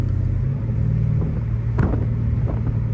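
The straight-piped Hellcat Redeye's engine rumbles steadily while driving, a deep, constant low drone with a slight rise in pitch near the end and occasional faint knocks, and no voices.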